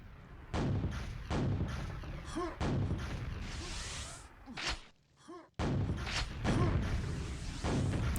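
QuakeWorld duel gameplay with rocket launches and explosions, repeated heavy booming blasts and whooshes in quick succession, with a short lull in the middle.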